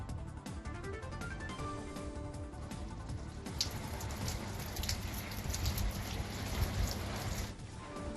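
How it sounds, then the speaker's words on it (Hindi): Steady rain falls across the Kashmir plains, a dense, continuous hiss of drops on surfaces at moderate loudness, with no voices and a slight swell in intensity partway through. "कश्मीर के मैदानी इलाकों में हो रही है बारिश"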